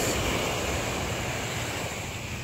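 Sea surf at a Philippine fishing shore where boats land, a steady broadband wash of waves mixed with wind noise, loud and continuous with no voices.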